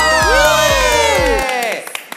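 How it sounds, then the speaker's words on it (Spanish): A live-stream lip-sync show crowd cheers, whoops and claps loudly as a guest is welcomed on stage; rising and falling shouted voices dominate before the noise thins out and fades after about a second and a half. "Reciban con un fuerte aplauso a Horacio Villalobos."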